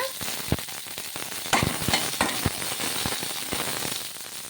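Green chillies sautéing in oil in a pan, a dense close crackle with sharp popping spatters scattered throughout, steady and fairly loud with no voices.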